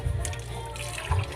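Water runs steadily from a tap in a home kitchen, a continuous splashing trickle with a slightly louder surge near the end, close to the microphone and without talk.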